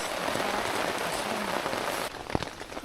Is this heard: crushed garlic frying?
no